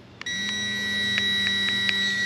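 An Equinox metal detector sounds a steady high electronic tone over a buried target at a park, holding on with a few brief pulsing accents, close and alone.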